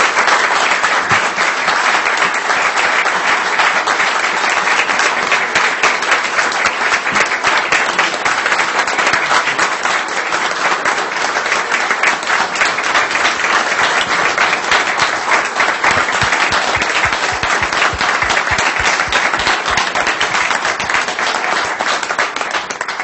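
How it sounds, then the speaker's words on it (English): Sustained, dense applause from the audience at a town council meeting, loud and steady for over twenty seconds with no speech over it. "a big round of applause"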